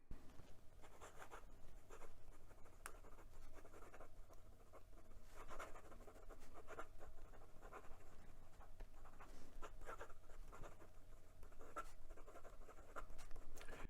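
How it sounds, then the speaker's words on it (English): Quick writing with a Jinhao 100 Centennial fountain pen with a wet nib on paper, faint close scratching strokes in a rapid irregular rhythm, alone without talk. "And some quick writing."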